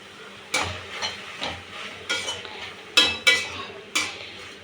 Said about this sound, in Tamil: தக்காளி நல்லா மசிற அளவுக்கு வதக்கிக்கலாம்.